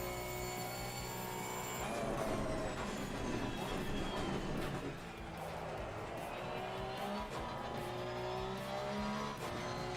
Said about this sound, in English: Let's go ahead and start really pushing the car.